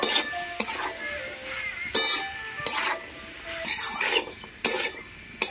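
Boiled peas and potatoes are stirred with spices in a pan, giving repeated scraping strokes and soft clinks at irregular intervals over a light background sizzle, close by with no talking.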